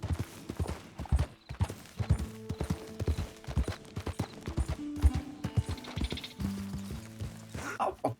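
A steady clip-clop of horse hooves trotting along in the video game Red Dead Redemption 2, with a melodic tune playing softly in the background.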